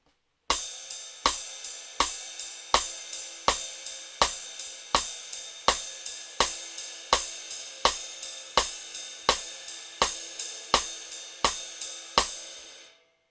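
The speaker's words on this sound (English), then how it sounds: "whenever we play the rim click, we're going to accent the ride cymbal." Drum kit in a bossa nova pattern, with a rim click on each beat and the ride cymbal accented on the clicks. The evenly spaced sharp clicks and ringing cymbal hits repeat steadily and closely, each with a short shimmering decay, and nobody talks.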